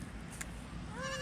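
A goat on a small farm bleats once near the end, a short wavering cry rising faintly above steady outdoor background noise.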